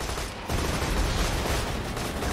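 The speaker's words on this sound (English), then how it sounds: "The anti-air cannon has been engaged." An anti-air cannon fires on a buzzard vehicle in Borderlands 2, a dense, continuous barrage of rapid, loud shots. After a brief dip near the start it roars on steadily with no voices over it.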